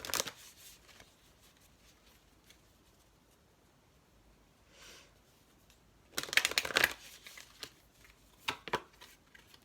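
Tarot advice cards being shuffled, a faint riffle early on, then a louder, close run of crisp card flicks and slaps near the end, with no talking.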